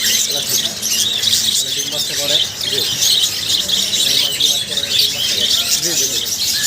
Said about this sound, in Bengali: এই যে উপরে কিছু বাজিগার আছে ভাই